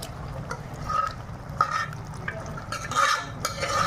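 Ground gongura leaves being stirred into a cooking curry in a pot, repeated scraping and clinking of a spoon against the vessel in uneven strokes over a soft simmering sizzle, close and clear.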